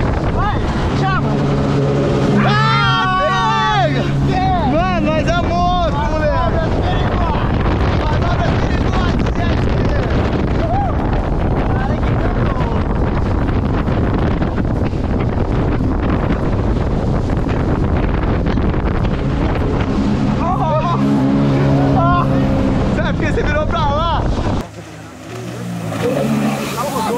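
A jet ski engine roars at full throttle, loud and close, with heavy wind buffeting the microphone, while excited voices shout over it before the noise drops away near the end.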